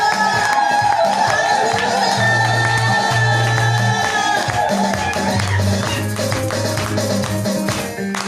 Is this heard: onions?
no